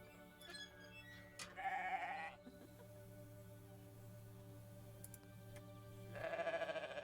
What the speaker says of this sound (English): A goat that moves.